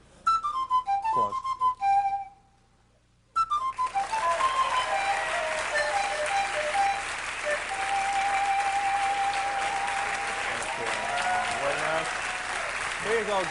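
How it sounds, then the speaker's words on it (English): Studio audience applause swells after a pan flute tune, first a few high whistled flute notes, a short silence, then dense sustained clapping that continues steadily for about ten seconds with faint voices underneath. "Applause."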